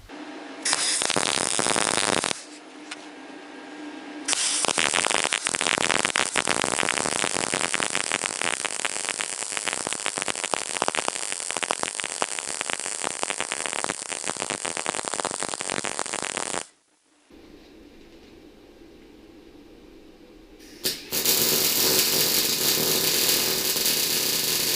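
An Andeli MIG 160 welder lays beads on old steel factory handrail, loud sustained crackling and hissing bursts with short pauses between runs, one long continuous weld in the middle.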